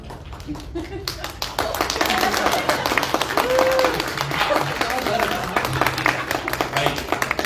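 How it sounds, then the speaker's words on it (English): A convention crowd at a MomoCon cosplay panel claps for the creatives on stage, starting with a few scattered claps and then swelling into close, lively applause as people talk through it. "I would love to have everybody give a round of applause to these amazing creatives here"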